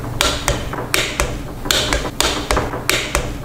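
Wheel bolts on a 21-inch Advanblack Blazer wheel are run down in a star pattern with a ratcheting tool, producing a quick series of sharp metallic clicks and taps in a close, irregular rhythm.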